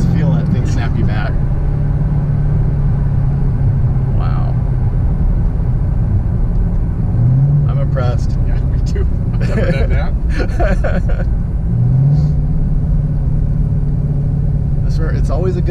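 A modified 2013 Chevrolet Camaro ZL1 accelerates from inside the cabin with a constant deep engine rumble, while people talk loudly over it for most of the stretch.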